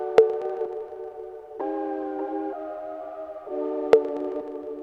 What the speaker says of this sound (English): So then that's what the cowbell sounds like.